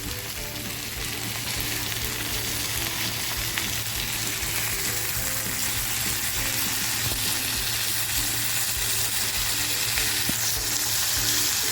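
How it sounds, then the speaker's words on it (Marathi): Ravas fish fries in a pan with a loud, dense, continuous sizzle that holds steady throughout. "एक बाजूने आपली मच्छीसुद्धा फ्राय झालेली आहे म्हणजे रावस फ्राय झालेला आहे"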